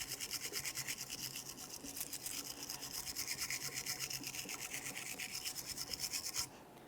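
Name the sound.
wire brush scrubbing brake caliper bracket groove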